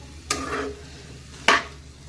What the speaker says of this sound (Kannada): ಈಗ ಇದನ್ನ ಎಣ್ಣೆಯಲ್ಲಿ 1-2 ನಿಮಿಷ ನಾನು ಹೀಗೆ ಇದನ್ನ ತಿರುಗಿಸ್ತಾ ಹೋಗ್ತೀನಿ